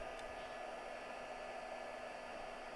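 A heat tool blows hot air onto a silicone candle mould, giving a steady, even whoosh with a faint motor hum throughout, close and alone.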